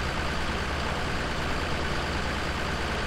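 John Deere tractor pulling a disc harrow in Farming Simulator 17, a steady low engine drone with a dense, unchanging rumble throughout, no voices or other events.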